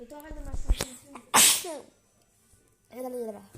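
A single loud, sharp sneeze bursts out between stretches of casual French conversation, with people talking before and after it.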